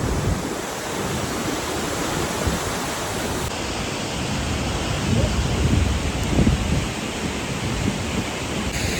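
A mountain waterfall on Hampta Pass roars loud and close as a steady, dense wash of rushing water that fills the whole clip without a break.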